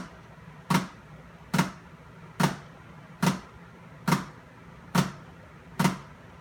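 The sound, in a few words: flam rudiment played on a drum with sticks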